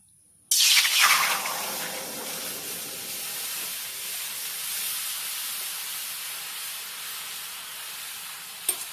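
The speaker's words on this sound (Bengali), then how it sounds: "কড়াইতে জল দিয়ে নেব।" Water poured into a hot kadai for a soybean dish sets off a sudden loud hiss that settles into a steady sizzling, steaming rush lasting several seconds, with no talking.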